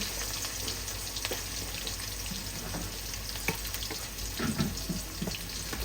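Sliced onion and green chillies fry in a pan with a steady close sizzle, broken by occasional scraping stirs and a few soft bubbling pops, quiet and without voices.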